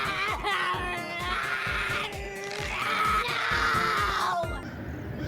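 A cartoon character throws a screaming fit, a loud, shrill, strained voice wailing almost continuously for several seconds with brief breaks, close and harsh, rising and cracking in pitch.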